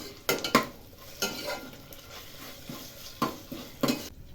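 Ginger garlic paste being stirred in a pan while making chicken pepper fry: close, quiet scraping of a utensil against the pan in short intermittent strokes over a faint sizzle.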